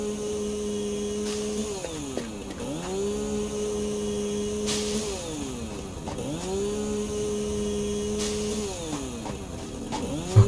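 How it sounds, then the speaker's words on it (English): A powerful chainsaw in the game Satisfactory cuts through stone, its motor revving up and dropping back in a steady repeating cycle, loud and close with sharp clanks at each change in pitch. "That's a powerful chainsaw. It's taking out stone"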